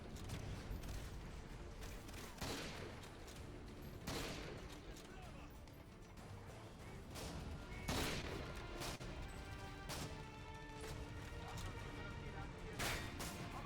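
Repeated bursts of gunfire in the Call of Duty Modern Warfare 2 Spec Ops mode crack out one after another at moderate volume, mixed with other game effects and faint voices in the background.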